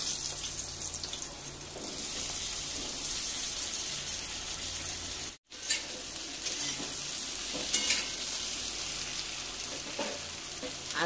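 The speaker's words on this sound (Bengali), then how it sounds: "এবার ওই তেলের মধ্যে আমি আলু দিয়ে দিচ্ছি।" Potato pieces fry in hot oil in a kadai after small fish have been fried, giving a steady loud sizzle that cuts out briefly midway, then resumes with light stirring clatter.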